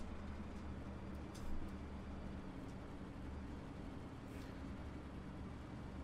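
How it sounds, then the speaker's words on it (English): Race car on the asphalt track at IRP, heard from onboard as a steady, fairly faint engine drone with road rumble that barely changes throughout. "You guys can see just how difficult it is for these guys to run these cars here at IRP"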